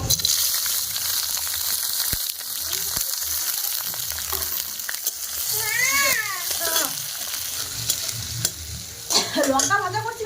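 Green chillies fry in hot oil with a steady, close sizzle and bursts of stirring, while a cat's short meow-like calls cut in briefly twice.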